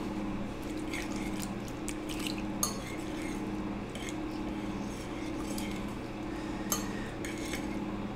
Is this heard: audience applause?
no